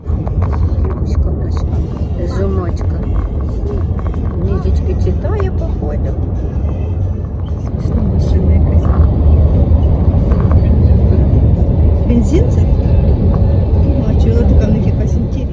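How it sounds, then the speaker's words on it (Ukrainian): A car drives along an American highway, its steady engine and road rumble droning throughout and swelling louder partway through, with a person talking over it. "Вирішила трошки познімати американську трасу, по якій ми їдемо."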